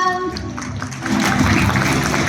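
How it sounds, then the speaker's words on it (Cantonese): An audience applauds guests on stage at the Honor Magic V6 phone launch event, the clapping swelling from a lighter patter into fuller, louder applause within a couple of seconds. "好，我哋一齊俾啲掌聲"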